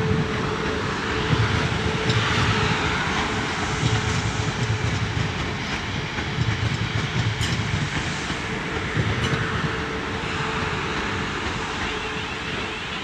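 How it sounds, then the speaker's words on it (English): A South Western Railway train pulls away from platform three at Basingstoke station, a steady, fairly loud rumbling drone with a sustained mechanical hum and faint rail noise, continuous and without talk. "So the train just about to leave off of platform number three is our 1 Lima 40 Southwest train service"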